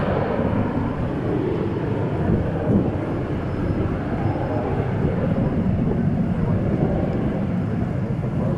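Sun Country airliner in its gopher livery at Dallas Fort Worth airport, a steady broad jet roar rumbling at moderate distance without clear rise or fall, no voices over it.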